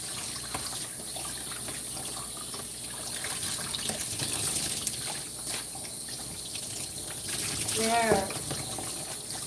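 Warm water from a tap gushes steadily while a dog is rinsed during grooming, a continuous rushing flow that swells briefly near the end, with a person speaking over it.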